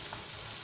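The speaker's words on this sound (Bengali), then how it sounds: "এখন প্রথমে পেঁয়াজটা আমি ভালো করে ভেজে নিয়ে" Onions frying in a pan before mutton is added, a brief continuous close sizzle with faint stirring.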